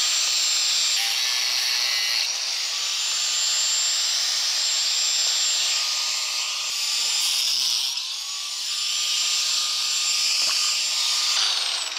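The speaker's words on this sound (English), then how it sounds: "just going to cut the attachment point for the blades off" A power tool cuts through the metal blade attachment point of a wind generator, a high, steady grinding whine that shifts pitch as the cut progresses, loud and close with no speech.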